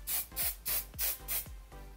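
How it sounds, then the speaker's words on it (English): Hairspray misted onto curled hair in five short, even bursts, each a close, bright hiss with brief gaps between, no talking. "take my hairspray"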